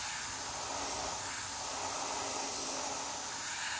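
An airbrush sprays paint in a steady, close hiss while detailing vampire lips, the airflow constant and even with no pauses and no voices.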